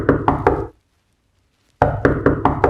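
Knocking on a door, two bursts of three or four sharp raps each separated by a pause of silence, loud and close.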